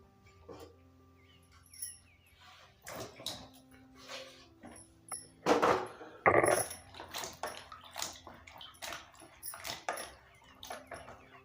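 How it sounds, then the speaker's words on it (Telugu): Bajji chillies are washed by hand in water, with splashing, sloshing and soft clinks of a vessel coming in irregular bursts, close and fairly quiet. "ఫస్ట్ బజ్జీ మిరపకాయలను శుభ్రంగా కడుక్కుందాం"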